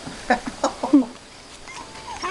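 Six-week-old puppies whimper and yip at playtime, giving a few short, high cries close by before the sound fades into quiet.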